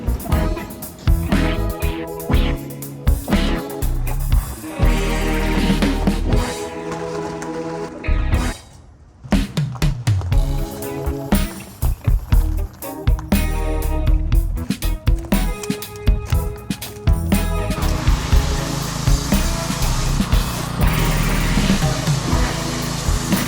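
A pressure washer blasts the engine bay of a 1990 Honda CRX Si, a loud continuous hissing spray that shifts and sputters as the jet moves around, with a brief pause midway before resuming.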